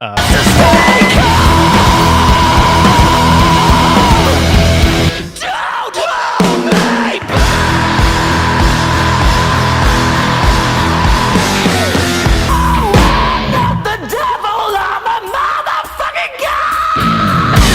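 Loud, sustained screaming and yelling from several voices, harsh and continuous, with a couple of brief dips before the shrieking resumes.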